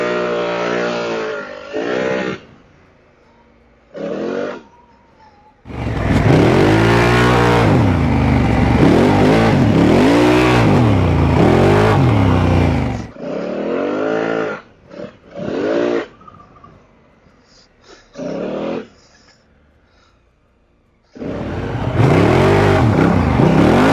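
Honda Africa Twin motorcycle ridden hard over heavy off-road terrain in manual mode with paddle shifting, engine revving in loud bursts that rise and fall between quieter idling gaps.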